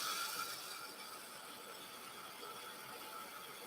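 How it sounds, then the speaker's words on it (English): A heat tool blows to dry ink on Masking Magic film for card making, a steady whirring fan noise that is continuous and moderately quiet, with no one talking. "So I'm going to give it a quick heat dry because I don't want this to run."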